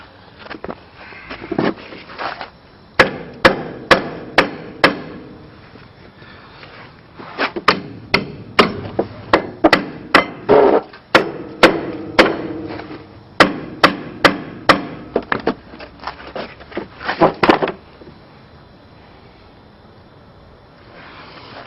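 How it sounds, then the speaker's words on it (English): Repeated sharp metal hammer strikes pressing a ball joint into place ring out in bursts, some rapid and some spaced, close and loud with pauses between groups. "hit your hammer up here and use the bar to knock it in here and here."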